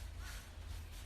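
Crows nesting in a tree behind a house give a brief, distant caw, faint and muffled under a low background hum.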